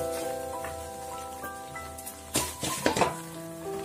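Mango pickle masala with Kashmiri chilli being stirred in hot sesame oil, giving a soft steady sizzle with scraping spoon strokes that grow louder near the end.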